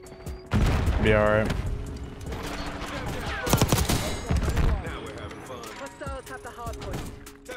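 Automated sentry gun fire in Black Ops 6, a rapid clattering burst of shots mixed with mechanical clanks and other game effects, while someone talks over it.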